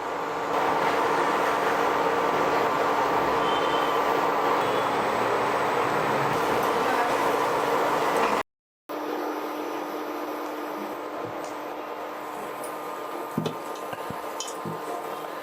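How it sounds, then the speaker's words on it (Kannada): Water with ghee boiling hard in a pot on the stove for pineapple kesari bath gives off a steady, loud bubbling hiss that cuts out briefly, then carries on more quietly. "ಈಗ ಕುದಿ ಚೆನ್ನಾಗಿ ಬರ್ತಾ ಇದೆ."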